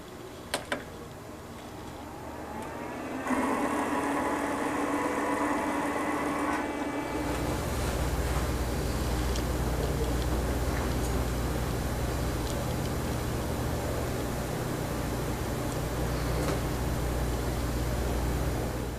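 A vinyl cutter pre-feeds a roll of material after the lever is locked down, a steady mechanical whir and rumble that starts after a few seconds of quieter hum and continues evenly to the end, close by, with no talking.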